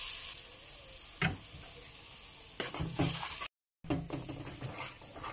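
Finely chopped onion frying in melted butter in a pan for lasagna sauce, a constant close sizzle with occasional stirring scrapes and clinks, briefly cut by a short gap.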